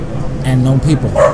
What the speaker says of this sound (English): And if you hear some barking noise in the background,